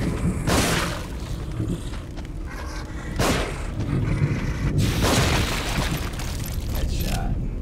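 Gunfire in The Evil Within horror game, a few loud booming shots with broadband bursts, mixed with thuds and footsteps under a constant game background.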